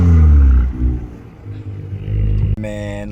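An Acura MDX engine fitted with a full turbo-back exhaust roars loudly up close, then drops to a steadier rumble before a short final burst of revving.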